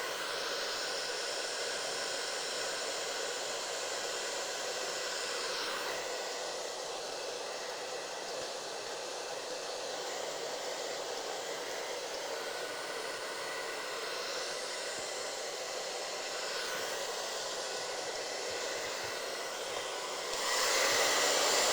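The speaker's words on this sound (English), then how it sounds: "I aim the airflow down over the hair, and then I work the hair back, just drying it and laying it, following the round of the head" A hair dryer blows steadily and close as it dries hair, aimed down over the head and worked back; the airflow hiss holds for about twenty seconds with slight shifts in tone as the nozzle moves, with no voices.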